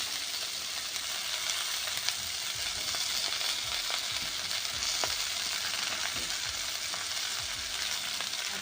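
Mixed vegetables fry in a home pan in a continuous, moderately loud sizzle, with faint scraping stirs breaking through now and then and no talking.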